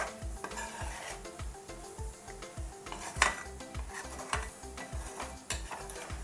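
Tomato pickle being stirred in a pan as oil separates out, a steady run of rhythmic scraping strokes from a spoon against the metal with a soft sizzle underneath, close and fairly loud, no voices.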